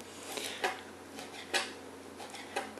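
A knife cuts partially frozen meat into small cubes, giving a few soft, spaced knocks of the blade on the board over a quiet background.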